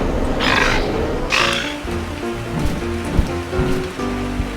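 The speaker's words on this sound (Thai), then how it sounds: "โอ้ฝนตกนะเนี่ย" Steady rain in the video game Ark: Survival Evolved patters on surfaces with a continuous hiss, mixed with low ambient game tones and occasional soft thuds.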